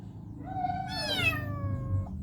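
One long, rising-then-falling meow from an abandoned kitten, clear and fairly close, over a faint low background hum with no talking.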